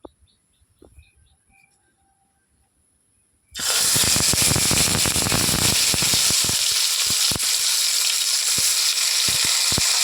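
Small fish wrapped in pumpkin leaves drop into hot oil in a wok and burst into a loud, continuous sizzle after a few quiet seconds with faint birds and insects in the background.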